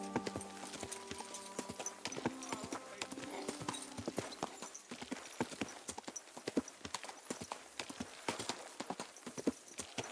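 Horse hooves clip-clop in the medieval video game Kingdom Come: Deliverance II, a quick, fairly quiet rhythmic patter of steps that carries on throughout, with faint game sounds and brief voices around it.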